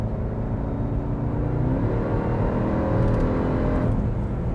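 A 2020 Jeep Trackhawk high-performance SUV accelerates to pass a slower vehicle on the road, heard from inside as a continuous engine rumble and whir that rises in pitch and stays loud throughout.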